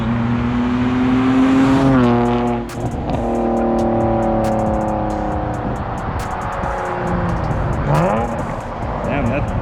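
BMW 540 E34 V8 with an aftermarket exhaust revving loudly and steadily for nearly ten seconds, with a brief dip near the three-second mark and a rising rev toward the end, while voices talk over it.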